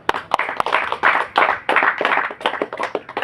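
Audience clapping at a Dharmapuram Isakki Amman temple anniversary abhishekam ceremony: a dense burst of many hands applauding together, lively and fairly close, with a few sharper claps standing out, about three seconds long.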